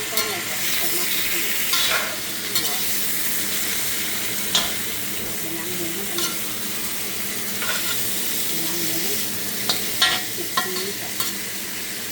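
Pork sizzles steadily in a hot pan while being stirred, with continuous frying crackle and occasional scraping clicks of the utensil, close and fairly loud, no talking.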